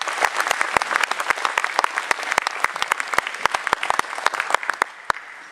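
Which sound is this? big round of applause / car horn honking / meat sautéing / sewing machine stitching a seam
big round of applause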